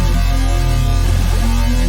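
Glitch bass synth patch in Harmor with filter and pitch turned off, a loud, dense, buzzing digital drone full of gritty computery noise that holds steady throughout, with no voices.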